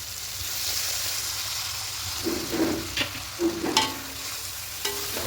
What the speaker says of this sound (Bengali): ঠিক এখানে জলটা অ্যাড করব